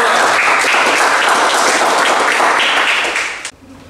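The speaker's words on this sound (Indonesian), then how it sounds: "Tepuk tangan untuk kelompok" Classroom applause for a student group in an automotive engineering lesson, dense clapping from many hands that holds steady, then fades and cuts off near the end.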